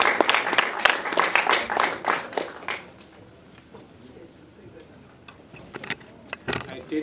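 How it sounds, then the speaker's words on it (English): A film festival audience at a Chicago South Asian Film Festival Q&A panel gives a round of applause for the guests. Loud, dense clapping lasts about three seconds, then fades into scattered individual claps with some talking. "And please give a big round for Tarsem as well as Anshul."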